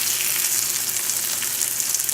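Vegetables sizzle steadily in a frying pan for an omelet, a continuous bright hiss of frying with soft crackles, close and even throughout.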